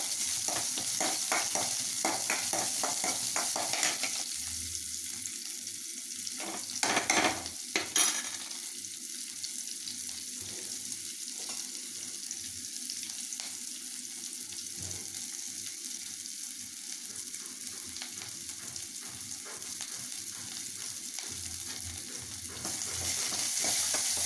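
Shallots fry in a pan for a banana-stem poriyal, a low crackling sizzle broken by scraping stirs, with a brief clatter midway and occasional water-like splashes, no voices.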